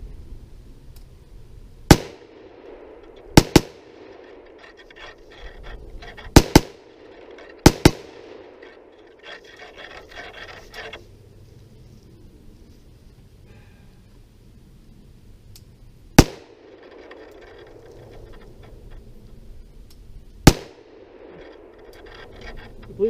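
Six sharp gunshots ring out at uneven intervals, a few in quick pairs, fired at targets set on a log outdoors, loud and close with brief echoing tails and quiet stretches between them.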